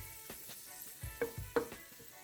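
Dried chile pods toasting in hot oil in a pan, giving soft intermittent sizzles and brief crackling bursts as the pods are stirred, fairly quiet and close.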